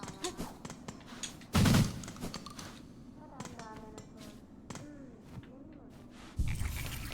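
Gunfire from a weapon in the video game Silksong, heard as two short, loud bursts about five seconds apart, separated by quieter game sounds and scattered chimes.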